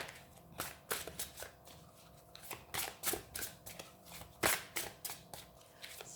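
Tarot cards are shuffled and drawn close up, with quick riffling bursts and sharp snapping flicks coming in an irregular series.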